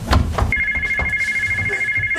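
A telephone rings with a steady, high electronic trill that starts partway through and carries on to the end, moderately loud and clear after a short burst of background noise.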